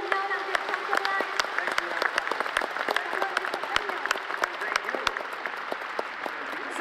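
Sustained audience applause fills a large rally hall at an Amway Vietnam event, dense clapping continuing steadily throughout with crowd noise underneath.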